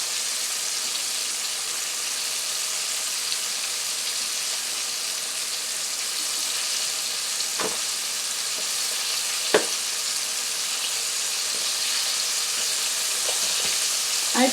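Chicken wings coated in whole wheat flour fry in hot oil on a gas stove, a steady, close sizzle and crackle with occasional sharp pops and light stirring clicks.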